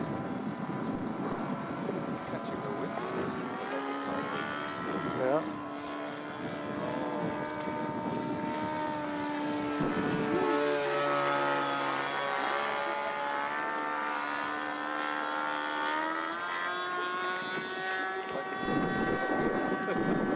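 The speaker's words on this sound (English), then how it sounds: "they can cut the engine down really, really low. And then it'll hover." An unmanned aerial vehicle from a search-and-rescue project runs its engine throttled low while hovering, a steady droning buzz with wavering pitch heard at a distance under wind noise outdoors.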